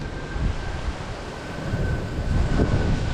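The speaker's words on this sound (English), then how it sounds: "It is super freaking windy right now." Strong outdoor wind buffets and rumbles across the microphone in uneven gusts, growing louder toward the end, with no voices.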